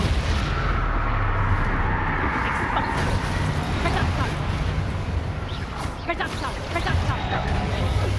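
Bombarda explosion spells burst in Hogwarts Legacy combat, heavy rumbling blasts layered under dense battle noise and overlapping game voices.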